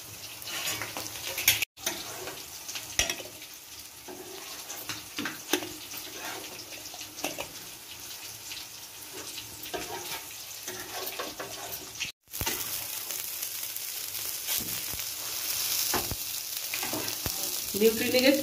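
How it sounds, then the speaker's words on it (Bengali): Soybean veg kebabs frying in oil on a tawa produce a continuous, close sizzle with crackling pops, broken by two brief dropouts and a few light scraping touches. "এই সাইডের গুলো এমনি করে চেঞ্জ করে দিলাম, হালকা হালকা ভেজে যাবে"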